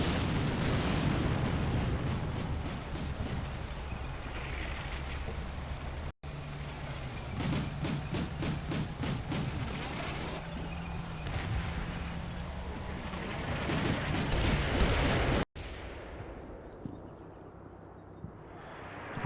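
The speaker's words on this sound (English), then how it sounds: "I hope they don't get killed by the artillery barrage." Artillery barrage in the Cold War video game Combat Mission, a dense, continuous roar of rumbling explosions with crackling bursts, loud throughout and easing toward the end.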